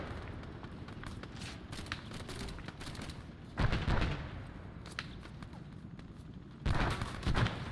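Illumination round fired in a military trench-warfare video game, heard as a few loud thumping launch bursts standing out from a steady background din of distant gunfire.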